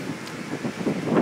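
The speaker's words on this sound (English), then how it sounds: "Bloody hell! That's windy." Strong wind gusts buffet the microphone on a Tokyo street, a continuous roaring rush that swells louder toward the end.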